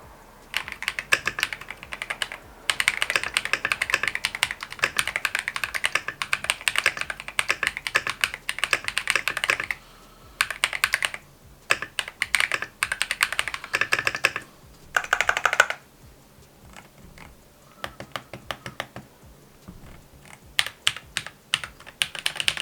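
Typing on a transparent Kiiboom Phantom 81 v2 mechanical keyboard with Crystal switches: rapid, crisp clacking keystrokes in bursts, with short pauses and a few slower single presses, close and clear with no talking.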